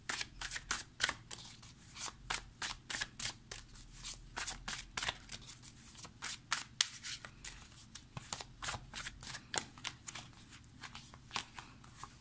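Tarot cards being drawn and laid out on a table during a reading, a long run of quick crisp flicks and slaps, close and steady, with no talking.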